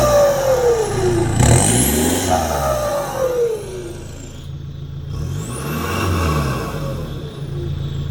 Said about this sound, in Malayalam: സ്റ്റോക്ക് വണ്ടിയിൽ ഫുൾ സിസ്റ്റം എക്സോസ്റ്റ് ചെയ്തതിൻ്റെ ഒരു സൗണ്ടാണ് നിങ്ങൾ ഈ കേൾക്കണത്